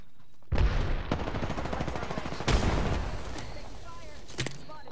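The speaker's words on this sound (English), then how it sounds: "And I can hear gunfire." Rapid gunfire bursts crackle in the video game Apex Legends, with sharp loud shots and rattling volleys, a voice talking faintly beneath the shooting.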